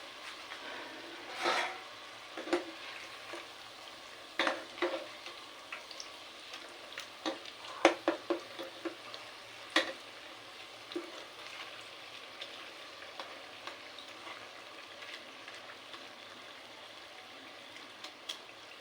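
Ainas, a Kerala sweet snack, frying in hot oil, with a faint continuous bubbling and scattered sharp pops and clinks of stirring, close and quiet, no speech.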